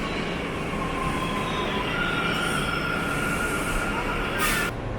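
A subway train rides along its rails with a loud, steady rumble and a high, sustained wheel squeal running through it, close by.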